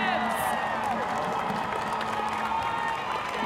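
Hometown crowd at a canoe-kayak sprint world championship in Halifax, Canada, cheering and applauding a winning crew, continuous roaring applause with whoops and shouts layered over it, loud and sustained throughout.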